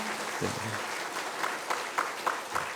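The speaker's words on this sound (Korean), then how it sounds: "우리 큰 박수로 환영해 주시기 바랍니다" A church congregation at a Wednesday prayer service claps to welcome a missionary family, scattered applause building after a brief low murmur, with sharp clap bursts near the front.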